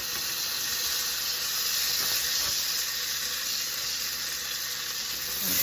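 Butternut squash sizzles in a pan of brown butter on a stovetop, a dense continuous hiss with a high whine running above it, close and steady with no speech.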